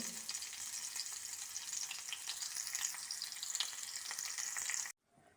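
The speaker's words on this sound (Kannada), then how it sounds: "ಸ್ವಲ್ಪ ಕೆಂಪಗೆ ಹುರಿಯವು." Continuous loud hissing and crackling of garlic frying in hot oil until reddish, steady throughout, then cutting off abruptly near the end.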